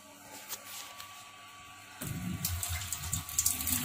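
Tap water starts running abruptly in a home kitchen while bread and pizza are being made, a steady splashing gush after a quiet start, loud and close with no voices.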